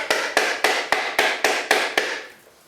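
A ball peen hammer strikes a coconut shell eight times in a steady, evenly spaced rhythm, each blow a sharp, close knock with a brief ring, then silence.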